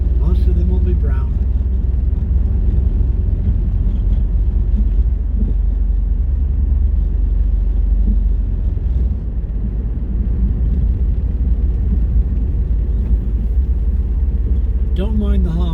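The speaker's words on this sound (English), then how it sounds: "Don't mind the hum, the car is 12 years old." A steady low engine hum and road rumble from a 12-year-old car driving through Fort Tryon Park in New York City, loud and continuous throughout, with occasional faint voices under the drone.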